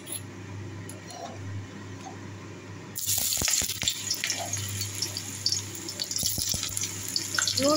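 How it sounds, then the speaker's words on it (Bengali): Boiled jackfruit pieces go into hot oil: after a quiet hum, a loud sizzle bursts in partway through and keeps hissing with scattered crackles and pops. "ইঁচড়টাকে ভেজে নেব, ইঁচড়গুলোকে।"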